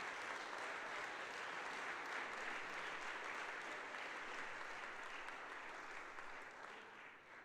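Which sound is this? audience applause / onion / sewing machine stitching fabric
audience applause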